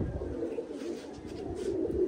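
Pigeons cooing in a loft, soft low murmuring coos close by, continuous over faint background noise.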